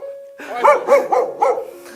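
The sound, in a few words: dog barking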